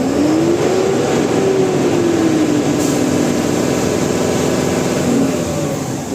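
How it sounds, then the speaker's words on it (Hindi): A Mahindra Blazo BS6 truck engine revs loudly up close, a continuous droning roar with the pitch rising and falling as the throttle is worked. "तो रेस हो रहा है गाड़ी, कोई दिक्कत नहीं है"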